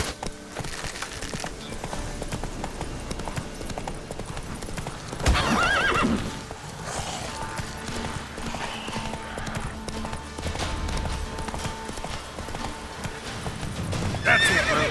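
Roach, the horse in the video game The Witcher 3, gallops with rapid, close hoofbeats, neighing loudly partway through as the clip-clop continues.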